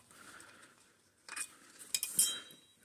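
Light metallic clinks and taps as an unlined stainless steel water bottle is handled, a few sharp knocks near the end, close and fairly quiet.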